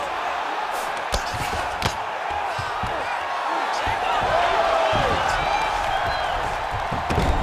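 A live MMA crowd at a featherweight tournament final roars and cheers steadily as fighters return to their feet after grappling, with sharp impacts and a commentator's voice over the din.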